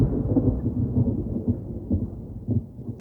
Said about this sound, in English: the skies in Joshua Tree lit up with lightning and rolling thunder came in from the south